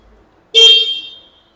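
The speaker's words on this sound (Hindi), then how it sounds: "तो हॉर्न सुन लेते हैं" A single loud electric horn blast from a 2024 TVS Sport motorcycle, bright and buzzy, sounding for about half a second then fading out, alone against near silence.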